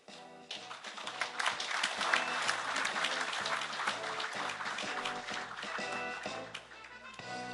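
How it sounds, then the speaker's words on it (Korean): Award recipients at the Federation of Korean Trade Unions' 2012 regular delegates' convention receive applause: a hall audience claps vigorously and steadily for several seconds, with faint sustained tones underneath. "힘찬 박수 부탁드리겠습니다."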